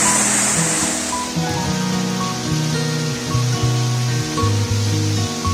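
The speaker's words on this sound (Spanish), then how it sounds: "En este capítulo pues solo les presento esta cascada" Quillollaco waterfall near Loja, Ecuador, roars as a constant broad wash of falling water, with a steady stepped melodic tone playing over it throughout.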